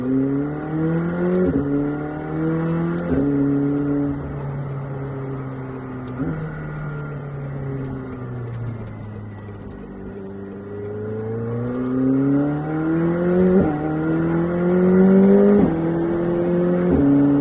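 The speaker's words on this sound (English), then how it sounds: "you'll start hearing the burbles and the crackles, and it will backfire once you get going" A McLaren 765LT twin-turbo sports car engine idles and revs with a deep, harmonic drone, pitch rising and falling over time; steady and close, with no distinct crackles standing out.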